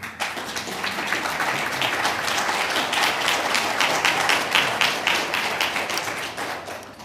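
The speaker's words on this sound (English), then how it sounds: "Patrick was applauding at that time." Applause breaks out at a mayoral candidate forum held in a restaurant, with dense, steady clapping from a small audience that carries on throughout and fades slightly at the end, with little talk over it.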